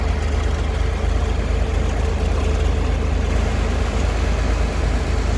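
A 1962 Chevrolet Corvair Monza convertible with a four-speed sits idling, a steady, loud low rumble from the engine with no knocks or other breaks, and no talking.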